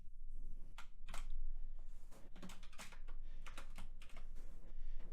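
Quiet, steady typing of HTML code on a computer keyboard, a rapid irregular patter of key clicks with a faint background hum, no speech.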